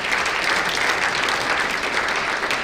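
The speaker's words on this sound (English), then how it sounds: "Let's give her a round of applause." An audience at a 2017 college tennis awards banquet gives a round of applause, a dense, steady patter of many hands clapping at once that holds evenly for the whole stretch.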